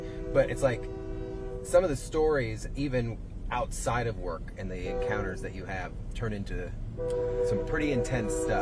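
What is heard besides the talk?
train passing and sounding its horn near Port Manatee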